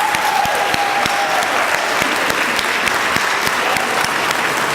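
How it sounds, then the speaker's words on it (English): A graduation convocation crowd applauds the class of 2021, dense continuous clapping that fills the room, steady and fairly loud throughout. "let's give them a round of applause"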